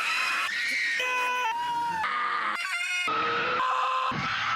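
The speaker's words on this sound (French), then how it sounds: "Mais connaissez-vous le cri de Wilhelm ?" A sequence of loud, high-pitched screams, like the famous Wilhelm scream film sound effect, comes in several sharp bursts back to back with no talking.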